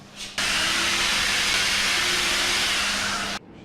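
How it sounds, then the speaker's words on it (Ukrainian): A hair dryer heating a shrink capsule on a wine bottle neck switches on and blows with a steady loud whirring hiss for about three seconds, then cuts off abruptly. "Після цього надівається коло і гріється феном."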